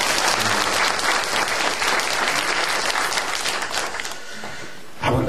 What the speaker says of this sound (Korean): 우리 하나님께 영광 박수 드리겠습니다.